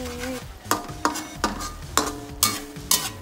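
A spoon or spatula stirs Baguio beans with sardines in a pan, scraping in about six steady, regular strokes under a soft background sizzle.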